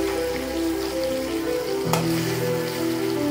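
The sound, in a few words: frying fish, turning in hot oil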